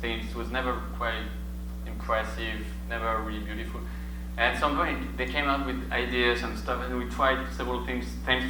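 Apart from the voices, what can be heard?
None of the usual background noises is heard.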